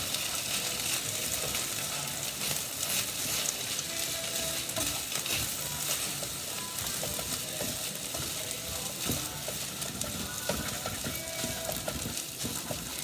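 Pad Thai noodles and cooked egg stir-fried together in a pan, a continuous close crackling sizzle with scraping and tossing clicks that keeps going without pause.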